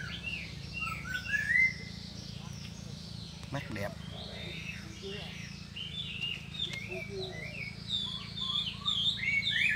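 Spotted dove from Phu Yen cooing in low, repeated notes beneath busy chirping from other birds, with someone talking briefly over the calls.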